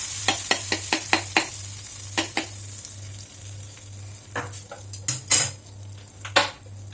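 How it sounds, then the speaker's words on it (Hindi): Curry leaves and urad dal sizzling in hot oil while tempering a coconut chutney, with a steady frying hiss under sharp clinks and scrapes of a metal spoon against the pan, close and busy. "और इसमें डालेंगे हम कड़ी पत्ता"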